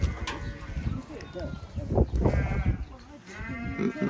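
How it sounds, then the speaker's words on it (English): Goats bleating in North Cyprus countryside, several animals calling in short wavering cries, some close and loud, mixed with people talking nearby. "Lots and lots of goats."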